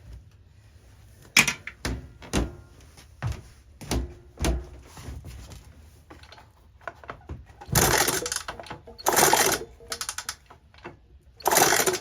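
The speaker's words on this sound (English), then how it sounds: "Still getting consistent spark on the right cylinder or the right coil" Spark plug snapping on the ignition coil of a Honda CL350 motorcycle during electrical troubleshooting, a series of sharp, close clicks and ticks in irregular bursts, with no talking.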